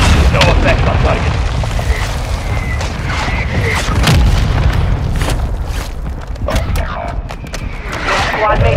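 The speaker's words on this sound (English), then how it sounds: "Hostile mortar strike near your position." Repeated heavy mortar explosions boom loudly and continuously in a Call of Duty: Modern Warfare II battle royale match, with sharp bursts and debris over a dense rumbling bed while radio-style voices talk.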